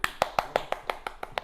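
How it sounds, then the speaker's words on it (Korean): Quick, evenly spaced hand claps ring out in a high school chemistry classroom, about nine sharp slaps in under two seconds, close and crisp with no talking. "박수!"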